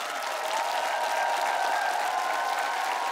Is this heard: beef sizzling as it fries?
no